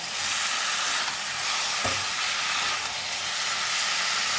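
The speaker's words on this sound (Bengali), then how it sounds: "পুরো এইভাবেই ভাজতে থাকি এটাকে" Chicken frying in a pan with tomato paste for Hyderabadi chicken curry, a steady loud hiss and sizzle that runs without a break, with one brief knock near the middle.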